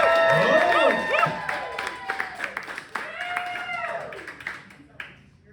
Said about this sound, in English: Big round of applause for Riley.